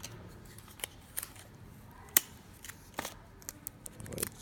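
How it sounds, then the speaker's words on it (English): Tape pulled and pressed onto paper rocket fins, a series of short sharp crackling strips and snaps at close range, scattered irregularly over a quiet background with no talking. "We're gonna add a little bit more tape just to secure this guy"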